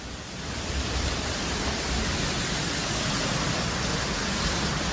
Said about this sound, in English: Once again, Tunnel Falls.